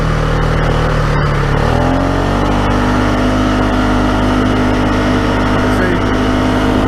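Polaris ATV engine revving hard and accelerating along a creek, loud and close, the pitch climbing steadily and holding high throughout.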